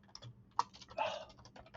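Computer keyboard keys tapped in a short, quiet burst of irregular clicks, close up and with no talking.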